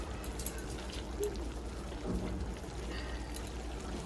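Ghee poured into a pot of chicken biryani, a soft liquid pour over low steady background noise, close and alone without talk.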